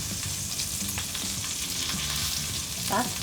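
A steak sears in a hot non-stick pan, giving a continuous close sizzle with a low background hum and a brief clatter near the end, no talking.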